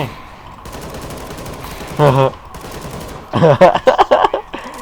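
Bursts of automatic rifle fire in the video game CS:GO, a short volley followed by a rapid string of sharp shots a moment later, with quieter game ambience around them.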